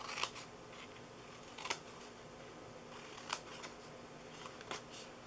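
Scissors cutting into a paper gift box, four or five soft, brief snips spaced out over faint room hiss, quiet and close.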